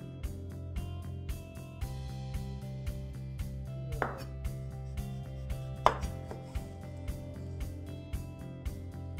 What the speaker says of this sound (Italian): Poi taglio la polpa in pezzettoni.